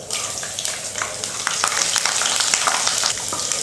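Garlic sizzles loudly in hot oil with popped mustard seeds, fenugreek and cumin for a dried-fish thokku. A dense, close hiss carries scattered crackles and spits that grow stronger partway through, with no talking.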